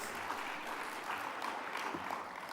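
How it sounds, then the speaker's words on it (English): Conference audience applause at a business and trade investment summit on sustainable product diversification, a faint, distant wash of clapping held at a low, even level, with an indistinct voice briefly rising over it. "Please give yourselves a very big round of applause."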